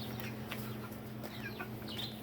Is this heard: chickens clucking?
yes